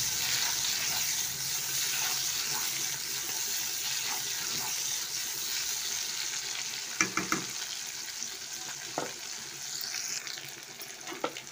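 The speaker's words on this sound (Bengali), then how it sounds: "একটু ভেজে নেব প্রথমে লঙ্কা আর পেঁয়াজটা" Green and red chillies and onion fry in a pan with a soft, steady sizzle close by, joined later by a few sharp clicks and scrapes of a utensil against the pan.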